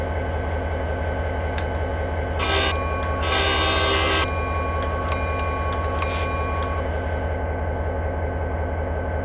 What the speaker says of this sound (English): Ease up on the throttle, take up the slack on the train.